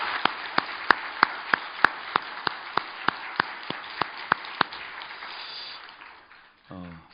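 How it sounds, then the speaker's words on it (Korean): A church congregation applauds during a Sunday worship service, with a steady run of sharp, evenly spaced claps over a soft wash of clapping that fades out. A voice comes in briefly at the end. "우리 하나님께 영광의 박수를 올려드립니다."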